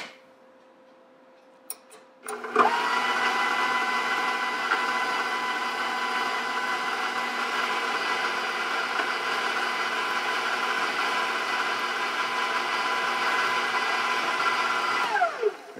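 An electric mixer churns soft cookie dough for koloucheh fouman: after a brief start, its motor whirs at a steady pitch for about thirteen seconds, then winds down at the end, loud and close with no talk.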